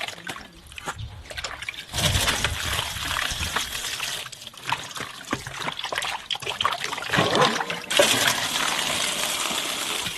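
Running cold water splashes and trickles as napa cabbage is swished and rinsed under it for kimchi, with bursts of gushing and clattering, steady and close.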